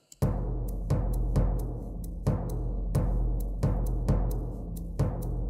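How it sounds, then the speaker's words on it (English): Layered cinematic percussion of timpani, mid-tone acoustic drums and a shaker in a medieval-style theme: booming hits at a steady, even pulse about every second, with a continuous bright rattle on top, loud and close. "And with shaker,"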